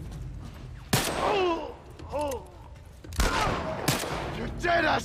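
Several revolver shots from the classic revolver in The Last of Us Part 1 crack out in sharp separate bursts, with game effects ringing between the shots and a voice talking underneath.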